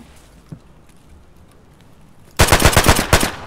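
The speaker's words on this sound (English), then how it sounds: "Oh, is that you shooting?" Gunfire in a multiplayer shooter video game, a quiet stretch with a faint distant pop, then a sudden loud burst of about six rapid, evenly spaced automatic shots close by.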